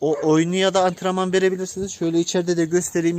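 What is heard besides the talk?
None of the usual background noises is heard.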